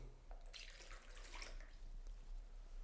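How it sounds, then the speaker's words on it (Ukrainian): Water is poured into a bowl for khachapuri dough, a soft trickling splash heard nearby and fairly quiet, lasting a couple of seconds with no talking. "Спочатку додаємо нашу воду."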